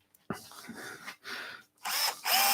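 Cordless 10.8-volt power drill boring into a wooden block at its first, slow speed, starting with a push, in short bursts of whirring separated by brief pauses, close and moderately loud.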